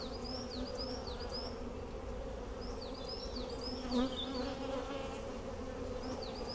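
Honeybees from a swarm buzzing around a marked queen, a steady hum from many bees close by, with individual bees zipping past in short rising and falling whines.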